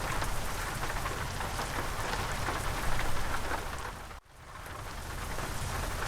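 Rain pours in the Euro Truck Simulator 2 truck-driving game, a dense steady hiss that cuts out for a moment and then swells back, with no voices.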